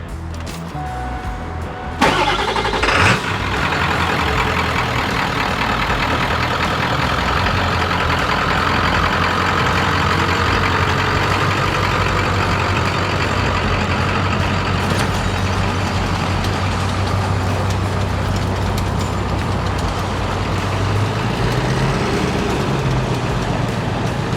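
Truck engine, a 7.3 Powerstroke diesel in a Ford Excursion, pulls a load during a tow test: a loud, steady, continuous drone with a low hum that holds throughout, after a brief start at the beginning, with no talk.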